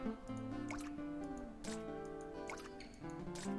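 Water poured into a mixing bowl in a bakery simulation game, heard as a few soft, bubbly gurgling drips over a steady, tonal music bed, fairly quiet.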